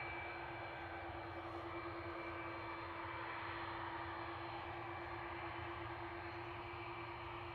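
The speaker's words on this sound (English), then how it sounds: "It's a Turkish Airlines A330-300, powered by General Electric CF6 engines" Turkish Airlines Airbus A330-300 with General Electric CF6 engines departing at night from Manchester Airport, a steady broad jet roar with a constant tonal whine, sustained and fairly distant, with no voices.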